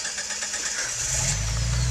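An engine on a slammer revs as a little throttle is given, its steady idle swelling into a louder, deeper drone partway through, close and alone.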